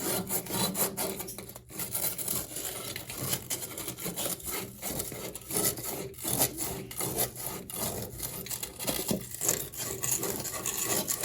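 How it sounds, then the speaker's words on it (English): A pipe being sanded clean before fitting a SharkBite push-fit connector, with continuous rapid back-and-forth abrasive scrubbing strokes, close and fairly quiet, with brief pauses. "I'm basically sanding it off."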